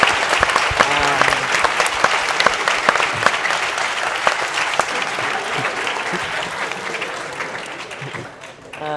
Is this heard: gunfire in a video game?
no